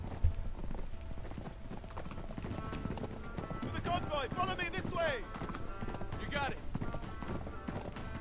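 A horse's hooves clip-clop steadily in the video game Uncharted 3 during a ride at dawn toward canyons, a rhythmic trotting under speech, with faint whinnies in the middle.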